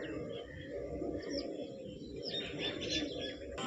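Pigeons on a rooftop chirp and coo in short, scattered calls over a steady low background hum.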